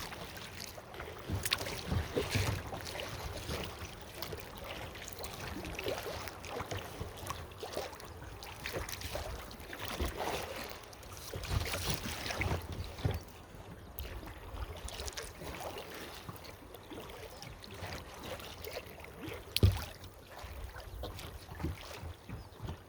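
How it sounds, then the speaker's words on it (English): Kayak paddling through small river rapids near the Kinzua Bridge on a long kayaking trip below the Kinzua Dam: steady rushing water and paddle splashes, with wind buffeting the microphone throughout. "Still little rapids here."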